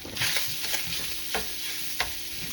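Sausage frying in a pan with bacon for country gravy, a continuous close sizzle broken by a few scraping stirs of a utensil, loud and steady with nobody talking.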